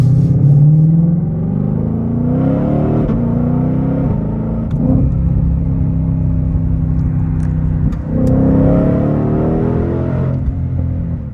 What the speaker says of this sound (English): It's a good sounding V8.